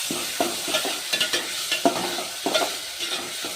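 Tomato frying in a pan with green chillies and curry leaves while being stirred: a steady sizzle with repeated scraping stir strokes, close up, with no speech.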